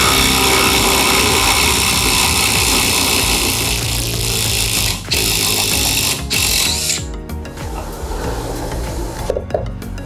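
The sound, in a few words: Dewalt DCF850 impact driver driving screws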